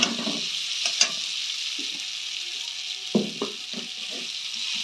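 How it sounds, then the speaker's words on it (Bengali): Boiled potatoes stir-fried with spices in a kadai for soyabean mutha, a steady frying sizzle under irregular scrapes and knocks of the stirring spoon, close up with no talk. "আমি এই পর্যায়ে আমার যে সেদ্ধ আলুগুলো ছিল সেগুলো দিয়ে দেবো, দিয়ে ভালো করে কষাতে থাকবো"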